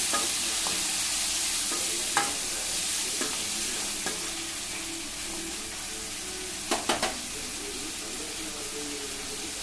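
Onions and tomatoes for sambar sizzle steadily in hot oil while a spoon stirs them now and then. A constant hissing fry fills the whole stretch, broken by a few light scrapes and taps of the spoon against the pan, close by and with no voices.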